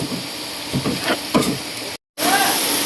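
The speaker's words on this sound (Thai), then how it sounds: "ผัดผักกาดดอง ใครเคยกินบ้างแล้ว" Pickled mustard greens stir-fry in a pan with a bright, steady sizzle and a few scraping strokes, then a brief cut to silence before the frying resumes louder.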